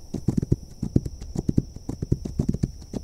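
Rhythmic hoofbeats of a galloping horse in a video game, quick repeated thuds in a steady three-beat pattern, close and continuous, with a faint high tone in the background.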